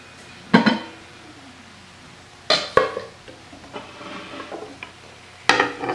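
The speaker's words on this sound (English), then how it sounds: "So into the crock pot it goes." Ground beef and onion dropped into a crock pot, giving three separate scraping, clattering bursts of a spoon against the pot with quieter shuffling between them.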